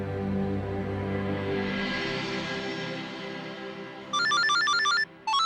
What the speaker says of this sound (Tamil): அவர்தான் ஃபோன் பண்றாரு.